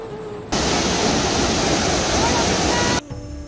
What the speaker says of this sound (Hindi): गौंडार गांव पहुंचने से पहले एक बहुत ही विशाल काय झरना आता है